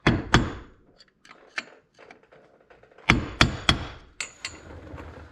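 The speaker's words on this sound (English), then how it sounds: "you need to tap down this indent right here" A hammer taps down an indent on the shift shaft of a Yamaha YXZ1000R side-by-side. A few crisp metallic knocks come first, then a pause with faint handling, then a quicker run of close, loud taps.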